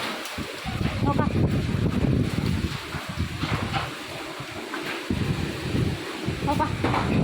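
Strong wind roars steadily around a rural house in a broad, rumbling rush, with people talking over it.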